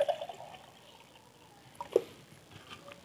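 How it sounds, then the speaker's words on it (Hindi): Water poured into a pot over a mobile circuit board during gold recovery, a soft trickling stream with a brief splash near the middle, close and fairly quiet, no voices. "ये है 1000 मिलीलीटर पानी। ये हम इसमें डाल जाते हैं ताकि इसमें डूब जाइए।"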